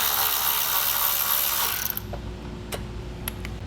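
A ratchet works a 10 mm bolt off a 2022 Jeep Cherokee while a Blue Ox base plate is being mounted. A dense burst of rapid clicking is followed by a few separate sharp ticks, close and clear.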